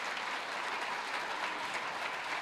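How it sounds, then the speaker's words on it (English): Steady applause from a crowd at a Republican Party kickoff event in a town hall, honoring Rita Allison, an even dense wash of many hands clapping throughout, without talk. "Y'all give Rita a round of applause for all she's done for our party."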